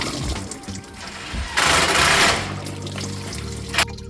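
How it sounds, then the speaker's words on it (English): Water gushes and drains from a removed water pump on a Peugeot/Citroen 1.6 HDI diesel engine, a loud broadband splash in the middle with quieter trickling and workshop hum around it. "All the water is completely drained."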